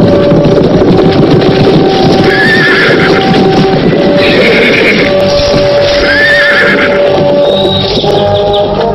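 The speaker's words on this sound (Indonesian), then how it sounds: "ada 10 orang naik kuda sedang menuju kemari" A group of about ten horses ridden toward the listener in an outdoor period film scene, with loud continuous hoofbeats, repeated neighs and whinnies, and a steady rumble underneath.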